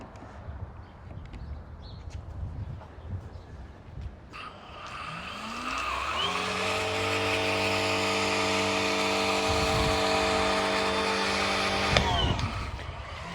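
A Fanttik NB8 Ultra cordless pressure washer with a foaming soap container attached switches on at its high setting. A loud, steady motor whine with a hissing spray runs for about six seconds, then cuts off.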